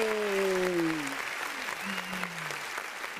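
Steady clapping from a crowd, moderately loud, while a voice talks over it at the start.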